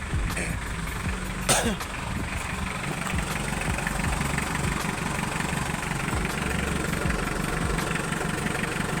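A Mitsubishi Pajero's 4D56 diesel engine with a stalling fault idles steadily at moderate level, a low continuous rumble with a brief sharp click or tap near the start.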